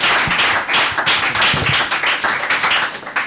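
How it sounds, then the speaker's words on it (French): A church congregation claps and applauds together, a dense, steady, loud patter of many hands with slight rhythmic pulses, filling the whole moment without any talking. "Est-ce qu'on peut l'encourager et acclamer le Seigneur des Seigneurs?"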